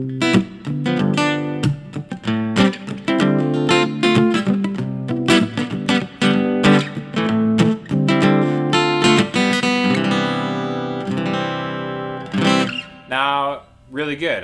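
An electric guitar plays through a Bose S1 Pro speaker with heavy reverb, ringing strummed chords and single notes that sustain and blur together, loud and near, with brief gaps near the end.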